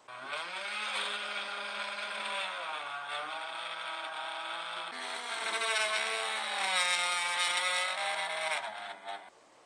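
A power drill whines steadily close by for nearly ten seconds, drilling a hole in the post of a homemade wind turbine, its pitch sagging under load and then climbing again before it stops.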